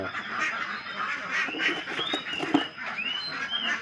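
Several ducks quack and honk close by in a busy, overlapping chorus with no talking.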